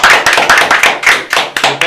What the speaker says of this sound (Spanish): Recibimos con un fuerte aplauso la diputada Ana María Peña